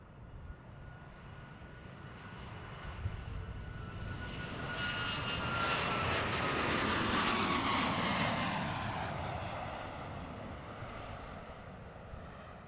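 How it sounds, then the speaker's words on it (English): A Boeing 737 Max 8 takes off at an airfield, its jet engines swelling from a distant rumble into a loud roar with a rising whine as it passes, then fading away, with no talking. "What's really interesting about the Max 8, and specifically the engine sounds or the noise"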